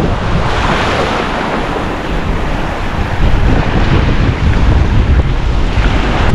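Loud, roaring wind, with sand carried in it, buffets the microphone nonstop, a dense rushing noise that swells stronger toward the end, with no voices.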